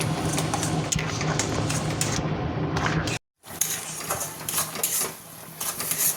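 Stirring chopped banana stem coated in mustard paste in a pan, a busy run of scraping and rattling spatula strokes close up, broken by a brief silent gap before continuing.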